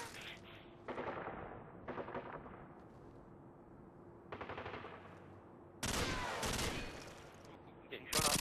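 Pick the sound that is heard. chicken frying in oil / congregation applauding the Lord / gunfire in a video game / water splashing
gunfire in a video game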